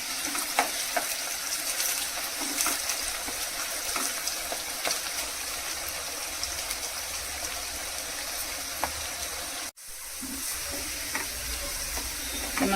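Thinly chopped bitter gourd fries in a pan with a steady, close, dense sizzle and faint crackles throughout. The sound cuts out for a moment near the end, then resumes.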